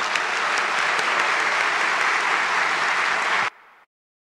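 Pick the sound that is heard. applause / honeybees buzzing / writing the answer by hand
applause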